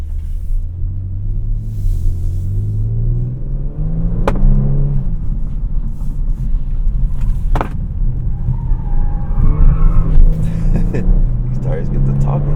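A Kia Stinger GT2 sports sedan's engine rumbles and climbs in pitch as the car accelerates hard, heard from inside the cabin with excited talking over it.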